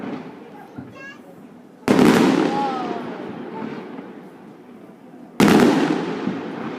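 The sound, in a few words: fireworks on Swiss National Day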